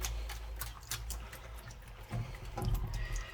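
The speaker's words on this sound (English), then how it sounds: "I'm just going to pour a bit around the edges because that gets forgotten." Liquid dye is poured around the edges of yarn in a pot, making a soft, close trickle and splash over a low stovetop hum, with faint ticking clicks.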